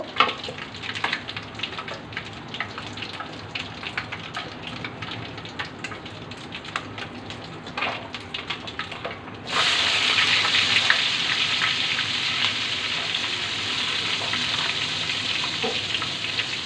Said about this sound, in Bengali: এখন এটার মধ্যে আমি পেঁয়াজ ভেজে নিব